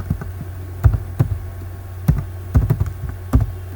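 Keystrokes on a computer keyboard as a single word is typed, a handful of close, loud clacks in uneven clusters with brief gaps between them, and no speech over them.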